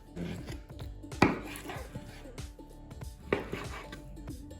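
A knife cuts bell pepper into strips on a board, making a series of close, irregular chops with a couple of louder knocks and some clatter between the cuts.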